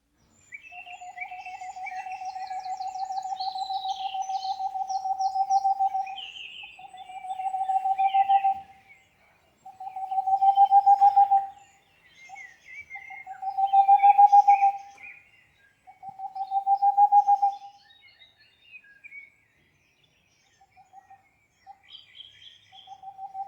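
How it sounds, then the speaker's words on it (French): Boreal owls deliver their song in a recording: repeated long, evenly pitched hooting trills in about five bursts separated by pauses, clear and isolated against a quiet background, with fainter higher calls around them. "ce chant des chouettes boréales"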